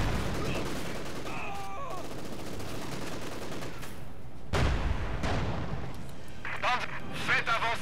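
A Panzer IV tank in Company of Heroes 2 fires on infantry, with booming cannon shots and bursts of machine-gun fire amid battlefield noise, while a voice speaks over the action.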